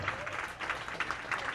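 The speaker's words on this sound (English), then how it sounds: "how about a nice round of applause to kick off our last qualifying round of the evening" Audience applause rings out at a US Open bowling tournament before the final qualifying round of the evening, a steady, moderately distant patter of clapping with voices mixed in.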